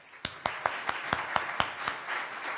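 Sparse applause at a Wayne State University staff event, about eight distinct claps spaced roughly a fifth of a second apart over a soft room murmur, rather thin and moderately near.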